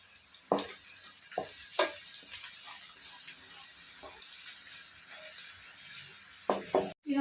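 Onions frying with curry leaves and turmeric for tamarind chicken give a steady faint sizzle. Occasional sharp stirring clinks and scrapes break through, with a louder clatter near the end.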